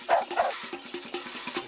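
A dog kept as a crocodile alarm in the Australian bush barks a few times, with quick yips and short barks close by, followed by softer rhythmic panting or yelping.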